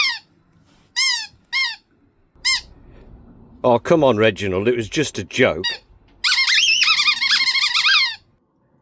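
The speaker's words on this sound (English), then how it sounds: "a really annoying squeak" A Dacia Duster car gives sharp, high-pitched squeaks in short repeated bursts, then a longer run of squeaking, with someone talking in between.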